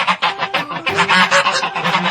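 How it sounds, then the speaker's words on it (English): A farm goose honks repeatedly in loud, nasal calls that follow one another in quick, uneven succession, close and clear with no other sound. "Goose."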